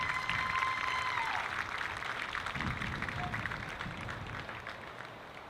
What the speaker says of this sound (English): Once again, ladies and gentlemen, a round of applause for the Elena Franks Award to Miss Mickey Watts of Laranger High School